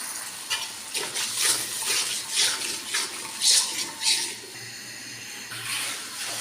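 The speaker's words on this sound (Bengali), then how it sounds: "এখন আমি একটু পানি দিয়ে দিব" Water is poured into a pan of frying turmeric, chili and salt spice paste, making a loud splashing hiss that rises and falls in surges over a steady background hum.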